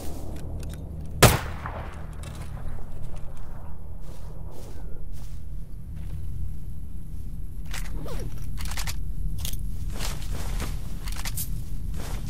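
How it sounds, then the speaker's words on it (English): Gunfire in the video game STALKER GAMMA, set in the Red Forest: one loud sharp shot stands out near the start, followed by scattered fainter cracks and footsteps over a steady low rumble of ambience. "Who's shooting you?"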